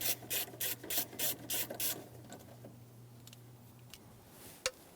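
A ratchet on an 8mm socket clicks in quick repeated bursts while loosening rusty fuel pump bolts by hand on a 2012-2017 Toyota Camry, followed by faint scrapes and a single sharp clink.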